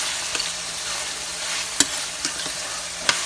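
About four cloves of garlic sizzle and are stirred in a hot pan for lamb Bolognese: a steady, close, bright frying hiss broken by a few sharp clicks of the spoon against the pan.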